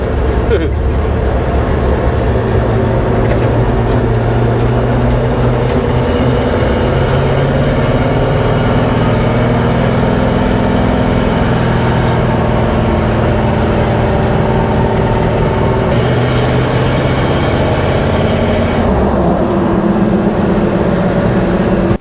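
A 1972 GMC 3500 wrecker truck driving along, its heavy engine droning steadily and loudly with low rumble throughout, while people talk over it.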